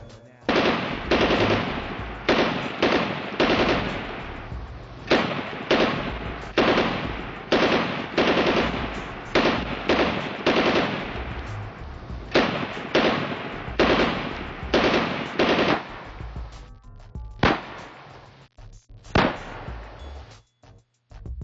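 A sustained barrage of gunfire from a police shootout with a state trooper: dense, rapid bursts of shots hammer on for about seventeen seconds, then thin out to a few separate, sharp cracks.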